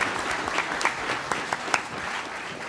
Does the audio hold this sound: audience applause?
yes